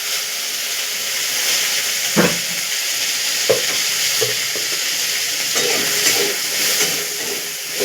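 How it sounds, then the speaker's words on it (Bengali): Chopped onion frying in a kadai with a little oil, cumin seeds and a bay leaf, giving a loud, steady sizzle broken by a few sharper scrapes of stirring. "পেঁয়াজটাকে ভালো করে লাল কালার করবেন"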